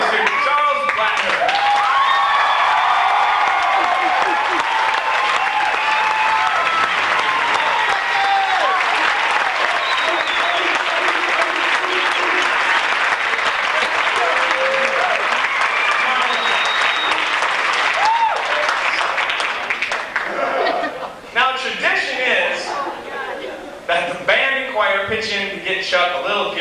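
An audience at a 1994 Christmas concert applauds warmly for a long stretch, a thick and steady wash of clapping with voices mixed in, thinning toward the end as talk resumes.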